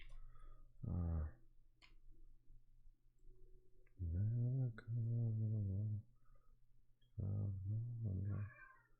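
A pet cat meows three times: a short call, then a longer drawn-out one, then another short one, close by in an otherwise quiet room.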